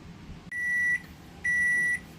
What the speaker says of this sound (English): the pasta is done, and I'm gonna pull that out of the microwave